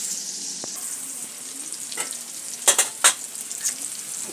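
Onions frying in a pan with a continuous bright sizzle, a few louder crackling spurts near the end as they are stirred, close and without talk.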